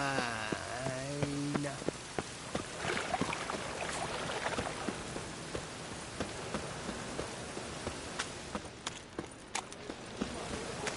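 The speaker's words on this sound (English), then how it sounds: "Rain, I like rain." Steady rain hisses down in The Witcher 3, dense and even, with scattered drips and sharp taps on top and a brief voice murmuring at the start.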